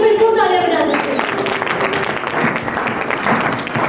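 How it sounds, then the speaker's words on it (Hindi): An audience at an indoor activity event breaks into loud, sustained applause. It follows a brief spoken phrase at the start and carries on as a thick, steady wash of clapping. "आप सब इनके लिए बिल्कुल तालियां बजा सकते हैं।"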